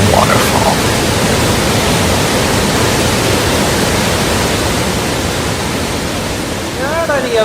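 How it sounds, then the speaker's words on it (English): A large waterfall roars as a loud, steady broadband rush close by, filling the whole clip without letup, while a voice speaks faintly near the end. "Quite a waterfall. It's a lot bigger than the last time I was here."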